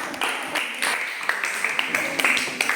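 A classroom of students claps in uneven bursts, several short rounds of hand-clapping with sharp individual claps standing out, fairly close and moderately loud.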